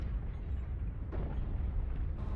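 A mech is destroyed in MechWarrior Online, a sustained low rumbling blast that fills the whole stretch with dense booming noise and a brief brighter burst partway through.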